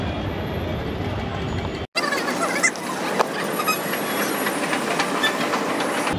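A train passing at a suburban railway station at MGR Chennai Central: a loud, continuous rush of rolling wheels and hiss after a brief cut, with faint voices mixed into the station noise.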